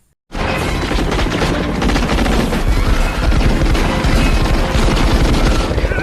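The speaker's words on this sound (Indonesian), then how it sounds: "orang yang di helikopter mengira John adalah anggota teroris itu, dan justru malah menembakinya" Automatic gunfire sprays from a helicopter at a man on a building rooftop in an action film: a loud, dense, unbroken fusillade of rapid shots that runs from start to finish with no talking.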